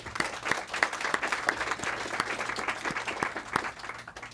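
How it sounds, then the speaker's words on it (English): An audience applauds at a bookstore author talk, a steady wash of many hands clapping at moderate distance, fairly soft, with scattered sharper individual claps. "A round of applause."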